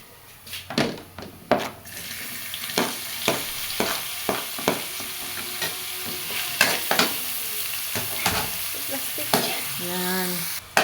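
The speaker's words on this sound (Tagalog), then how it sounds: "gisa na natin yung ating hotdog" Hotdog sautéing in a pan for a budget noodle snack, a steady close sizzle with repeated sharp scrapes and clacks of a spatula stirring, no talk.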